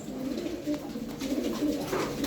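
Several pigeons coo in a loft, low throaty calls overlapping continuously at close range with soft rustling and no voices.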